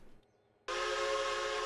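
A loud steam locomotive whistle from the Railroader video game bursts in abruptly after a near-silent moment and holds steady, full and forceful, with no speech over it.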